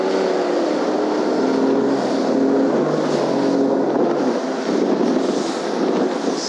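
A steady, loud engine drone with rushing wash as a Nitro bass boat runs fast across water, holding level throughout with no talking.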